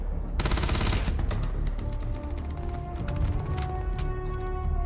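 Gunfire in the space game Starfield, a dense burst of rapid automatic shots up front and then scattered sharper cracks, loud and close over a steady game background.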